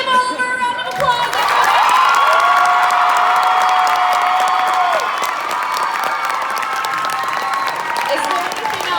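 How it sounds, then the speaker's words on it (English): A fan audience at a Q&A with Oliver Phelps in Sandy, Utah, breaks into sustained applause with cheers and whoops, holding loud and full for most of nine seconds after a brief voice at the start. "Let's give Oliver a round of applause"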